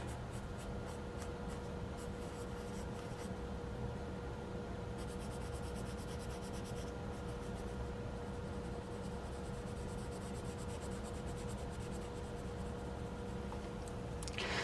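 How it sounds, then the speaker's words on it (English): A Palomino Blackwing 725 pencil writes steadily across smooth Tomoe River paper, giving a soft, continuous, close scratching with faint rhythmic stroke pulses. "Super smooth writing experience"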